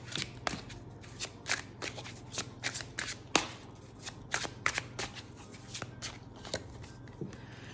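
Tarot cards riffled and shuffled by hand at close range, a quick run of crisp slaps and flutters that comes in irregular bursts over a low steady hum.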